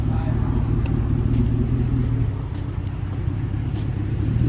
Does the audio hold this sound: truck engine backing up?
yes